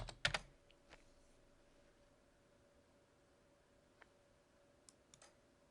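A few scattered keystrokes on a computer keyboard, typing into a search field in sales software, faint and sparse clicks over quiet room hiss, with a short burst of taps at the start.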